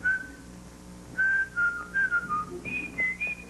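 A person whistles a short tune on a radio game show, clear bright melodic phrases with brief pauses between notes. The whistling is close and alone, with no talking.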